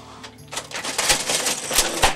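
An old mechanical cash register in a museum being cranked open, giving a quick run of sharp metallic clicks and clacks that build into a busy rattling, with several louder knocks close by.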